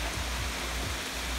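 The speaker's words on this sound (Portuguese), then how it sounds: "que cachoeira bonita" A scenic waterfall at Cascata reservoir near Marília, São Paulo, roars as steady broadband rushing water, constant and fairly loud with no voices over it.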